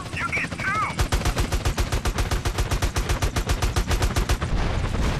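Rapid automatic gunfire in GTA San Andreas, a steady stream of loud, evenly spaced shots lasting several seconds and dominating the mix.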